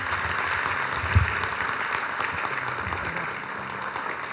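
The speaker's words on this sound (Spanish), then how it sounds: "recibir con un fuerte aplauso a nuestro hermano en la fe, Matías Cornetz." An audience applauds to welcome a guest speaker at a church gathering, a sustained wash of clapping from a sizable crowd with one louder thump early on.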